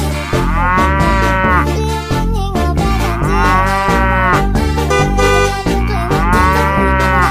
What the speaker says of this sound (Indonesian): Ini ada kerbau lucu sekali